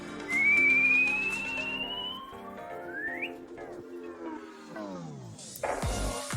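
A thin whistling tone slides upward as a balloon deflates, followed by descending whistles and a falling pitch sweep, ending in a brief noisy burst.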